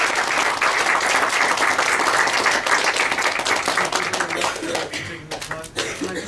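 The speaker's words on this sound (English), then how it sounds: "Big round of applause." Sustained audience applause fills a university finance lecture hall, with dense, steady clapping that thins out and fades toward the end.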